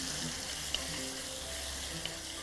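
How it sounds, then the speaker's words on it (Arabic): Beef tenderloin sautéing in butter with onion, a soft continuous sizzle with a couple of faint clinks, fairly quiet and steady. "دلوقتي هنحط بقى الزبده علشان ايه اشوح العرق."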